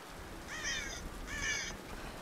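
A crow gives two harsh caws, evenly spaced about three quarters of a second apart, in the video game Tomb Raider, heard faintly at a distance over a steady low ambient rumble.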